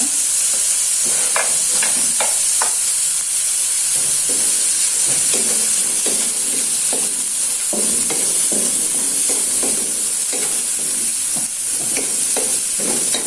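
Carrots fry in a little oil in a pan for rice porridge while a utensil stirs them, a constant loud sizzle with repeated scraping strokes throughout.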